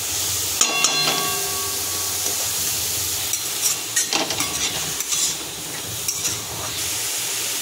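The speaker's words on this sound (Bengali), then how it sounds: "মিডিয়াম বা লো ফ্লেমে আপনারা এটা একটু হালকা করে ভেজে নেবেন" Chutney ingredients frying on a medium-low flame in a pan, a steady soft sizzle broken by scattered clinks and scrapes of stirring, close and moderately loud with no talking.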